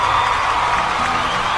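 Applause fills the space, a dense, steady wash of clapping, probably from a small audience, with faint cheering mixed in.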